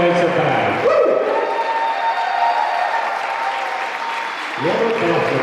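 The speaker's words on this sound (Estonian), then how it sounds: "Veel suur aplaus meie tänastele ratastooliajatsetele." An audience at a wheelchair dance championship gives sustained applause, a dense wash of clapping that stays strong throughout while an announcer's amplified voice speaks over the start and end.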